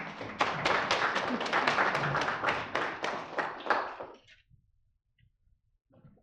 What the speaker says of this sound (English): Let us give a clap offering for the Lord.